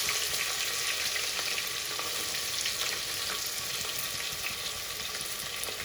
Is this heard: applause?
no